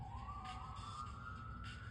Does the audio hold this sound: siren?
yes